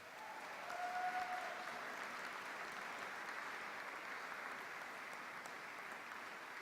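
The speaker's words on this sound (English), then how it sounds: "please applaud them for their support and their attendance today" Families and friends at a university graduation ceremony applaud the graduates, a sustained even roar of many hands clapping in a large hall, with a brief faint whistle-like tone early on.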